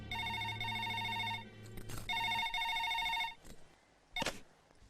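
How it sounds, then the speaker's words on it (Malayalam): A rotary-dial telephone rings on the line after a number is dialed: two long trilling ring bursts separated by a pause, clear and fairly loud, with a brief clatter near the end and no talking. "എങ്കിൽ ആ ഫോൺ എടുത്ത് കറക്കടാവേ"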